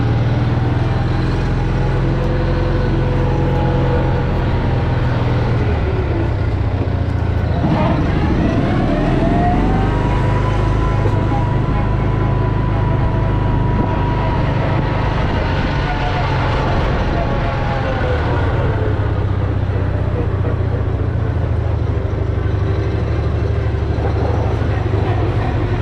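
An M274A1 Mechanical Mule military utility vehicle drives and rolls to a stop with a steady low engine drone and rumble, close by and continuous, with someone talking over it.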